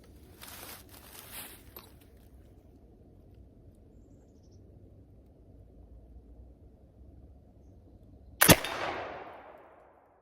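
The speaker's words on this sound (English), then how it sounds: "let's take a shot down range here." A single sharp, loud gunshot from a .45 Kibler Southern Mountain muzzleloading rifle cracks out late against quiet outdoor background noise, then rolls into a fading echo over about a second.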